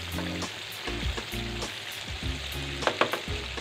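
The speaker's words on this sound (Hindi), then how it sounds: "ये इन्हें पकते हुए तकरीबन 3 मिनट हो गए" Chicken wings deep frying in oil for crispy wings, a loud close bubbling sizzle with stirring scrapes and a few sharper clinks near the end, no talking.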